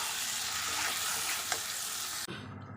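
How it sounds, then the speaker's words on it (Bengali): Spices are sautéed with potatoes in a pan, giving a loud, steady sizzle and crackle with light stirring scrapes, ending in a sharp knock as the sound drops away. "এবার মশলাগুলোকে ভালোভাবে আলুর সঙ্গে কষিয়ে নেব।"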